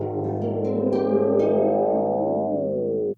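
A guitar played through a Beetronics Seabee effects pedal, one sustained distorted chord with swirling, sweeping harmonic modulation ringing for about three seconds before cutting off abruptly, loud and alone.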